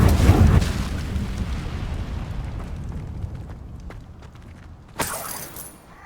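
A fiery burst of the Incendio spell in Hogwarts Legacy erupts loudly at the start and fades into a crackling rumble, followed by a second sharp flare near the end.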